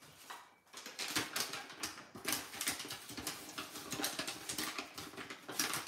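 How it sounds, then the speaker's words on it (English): Dried coffee-dyed paper being handled, giving soft, continuous crinkling and rustling close by with irregular crackles, fairly quiet. "Nice and crinkly."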